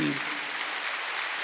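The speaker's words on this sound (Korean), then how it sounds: "빨리 박수하세요." A church congregation claps together during a Sunday worship sermon, a dense, steady wash of applause filling the whole stretch at moderate level with no pause.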